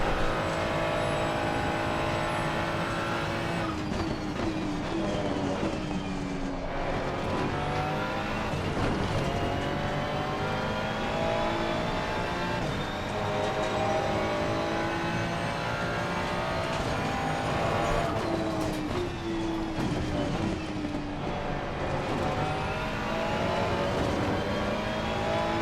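A Ferrari race car engine in Assetto Corsa Competizione drones loud and steady for the whole stretch, rising and falling through gear shifts with repeated acceleration sweeps, the virtual car close and continuous throughout.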